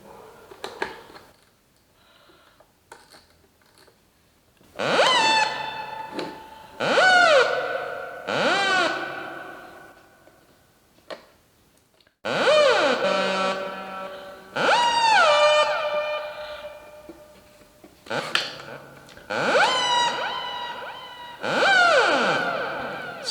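A Stylophone Gen-X1 synthesizer plays with reverb added: bright, buzzy notes with gliding pitch come in grouped phrases, each trailing off into echo, between brief quiet gaps.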